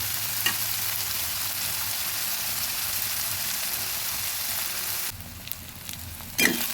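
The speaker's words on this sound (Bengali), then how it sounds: "ভালো করে নেড়ে দিচ্ছি" Chicken with spice paste sizzles and fries steadily in a pot while being stirred, a continuous loud hiss with a brief scrape near the start and a louder burst of sizzling at the end; no voices.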